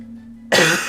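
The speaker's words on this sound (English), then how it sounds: "Hold on, I got a cough." A single sharp cough bursts out close to the microphone after a low steady hum, loud and breathy, fading within half a second.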